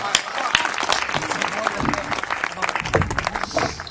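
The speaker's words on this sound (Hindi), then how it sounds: "जोरदार तालियां बजाकर इस युवा का स्वागत करिए।" A crowd at a poetry recital claps warmly to welcome a young poet onto the stage, a busy, uneven patter of hands over a few seconds, fairly close and lively.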